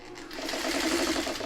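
A sewing machine stitches steadily around a quilted pineapple block, its close, rapid needle chatter building after a brief soft start and running continuously without talk.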